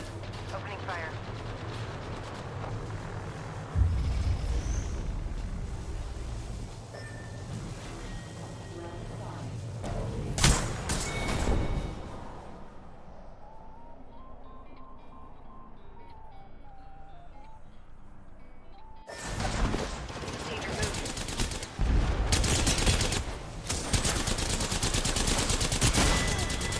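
Video game gunfire with dense bursts of loud shots in several stretches and a quieter gap between them, mixed with game sounds.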